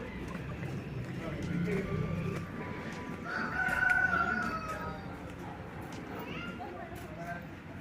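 A rooster crows faintly in the distance over a steady outdoor background of bustle and noise at a resort in Purulia.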